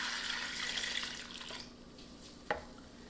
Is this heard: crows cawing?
no